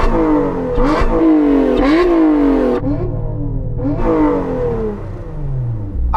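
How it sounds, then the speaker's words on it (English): Supercharged V6 of a Lotus Emira revving hard and loud in repeated rising sweeps, with brief drops between pulls and a lower idle rumble near the end. "Let's have a listen to your supercharged V6."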